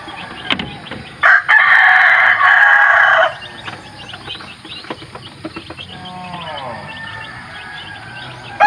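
A gamecock, a mestizo fighting rooster, gives one loud, close crow lasting about two seconds, followed by softer clucks and scattered bird calls nearby.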